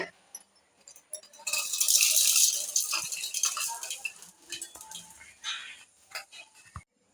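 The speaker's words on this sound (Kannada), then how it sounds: "ನೆಕ್ಸ್ಟು ಉದ್ದಿನ ಬೇಳೆ ಫ್ರೈ ಮಾಡ್ಕೊಳ್ತಾ ಇದ್ದೀನಿ" Urad dal frying in a little oil in a pan for a curry leaf chutney powder, giving a dense, close rattling and crackling that swells for several seconds and then breaks into scattered clinks and taps.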